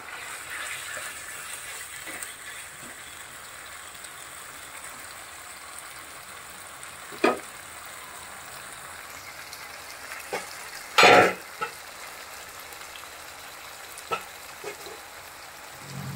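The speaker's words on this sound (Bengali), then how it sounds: "মাংসটা কষানো হোক" Beef cubes salted and braised in a pan for Bogura-style alu ghati hiss with a soft, steady sizzle, broken by a few sharp spatula scrapes and clatters, the loudest near the middle.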